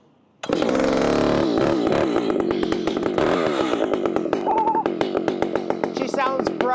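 Ported Yamaha Tenere 700 motorcycle engine with a decked cylinder for higher compression, firing up for its first start: a sudden loud crank and catch, then a rough revving idle with a rapid, rattly pulse close by.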